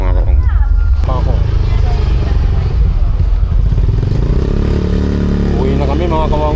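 A motorcycle engine drones and clatters close by during a late-night ride, a constant rumbling hum with someone talking over it.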